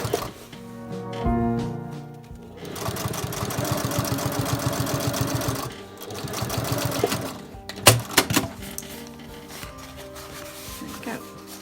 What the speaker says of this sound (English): Now you can stitch this way all through the corset first and then flatten the seams and lap the seams.